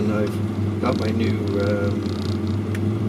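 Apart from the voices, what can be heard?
1983 VW Rabbit GTI engine idling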